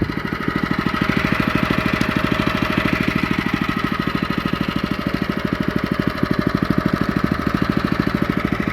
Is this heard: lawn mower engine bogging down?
yes